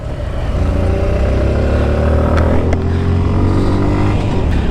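A Ducati Multistrada 1200 motorcycle cruises on a touring ride toward Gangtok, its engine droning steadily and loud close up, with continuous road and wind rush and a slight pitch rise, no talking.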